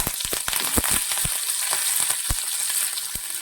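Curry leaves sizzling in hot oil with mustard seeds and dried red chillies for a ginger curry tempering, a steady hissing fry punctuated by sharp close pops and crackles, no voices.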